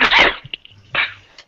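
A person sneezes during a recorded conversation: a loud, sharp burst followed by a quieter second sneeze about a second later, close to the microphone, with no talking.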